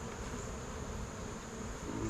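Honey bees buzzing around an opened hive during requeening, a dense, steady swarm hum close by and continuous throughout, no voices.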